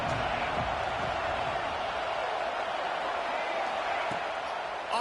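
A home crowd at a football game roars in a continuous, dense wash of cheering that holds steady throughout, with a commentator talking over it.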